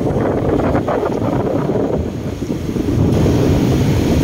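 Strong monsoon wind and high-tide surf at the dolomite beach on Manila Bay roar steadily and loudly, the wind buffeting the microphone throughout, with waves washing in beneath and no talking.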